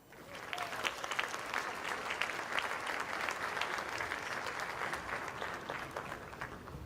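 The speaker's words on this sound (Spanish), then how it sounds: "Fuerte el aplauso" An audience at a national auditors' conference applauds warmly, a steady crowd of hands clapping throughout, fairly distant and even in level, fading slightly toward the end.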